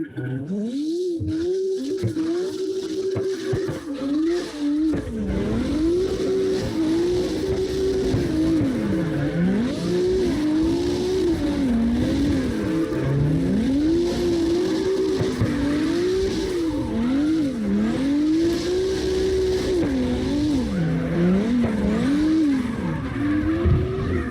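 A Toyota Supra drifting in CarX Drift Racing Online, its engine note wavering as revs rise and fall with tire squeal through continuous slides, loud and sustained game audio for the whole stretch.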